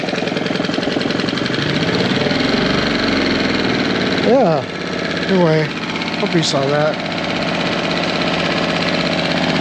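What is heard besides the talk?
Tohatsu 6hp outboard motor idling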